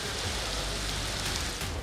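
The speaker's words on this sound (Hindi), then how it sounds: "मानसून की मुसलसल मूसलाधार बारिशें" Heavy monsoon downpour in Pakistan during flooding makes a loud, dense, continuous hiss of rain striking surfaces, even and unbroken throughout, with no talking.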